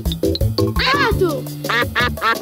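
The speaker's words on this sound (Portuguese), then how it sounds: "Pato!" A cartoon duck in the animated series Pocoyo gives a loud run of nasal, rhythmic quacks, several short ones followed by longer drawn-out calls, close and prominent.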